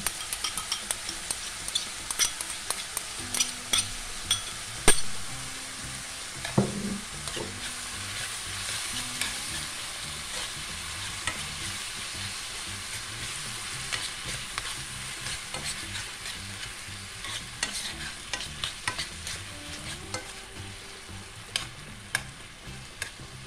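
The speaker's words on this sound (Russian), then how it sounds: "Обжариваем овощи на протяжении 5 минут. Периодически перемешиваем." Vegetables with a little tomato paste fry in a pan with a steady sizzle, broken now and then by stirring scrapes and a sharper utensil knock near the start; no voices.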